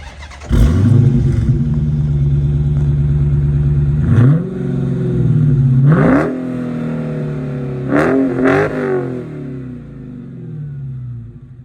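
A 2023 Dodge Challenger R/T Scat Pack Swinger V8 muscle car idles with a loud, deep rumble, then is blipped in several sharp revs that rise and fall back to idle, close and unbroken by talk.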